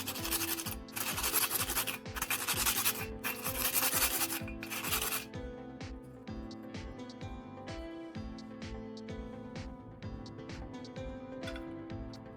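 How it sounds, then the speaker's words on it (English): Sandpaper rubs the rough cut edges of a tuna can metal ring in quick, rhythmic scraping strokes for about five seconds, then stops, leaving soft background music with faint ticks. "After cutting, I take some sandpaper and smooth out all the rough edges."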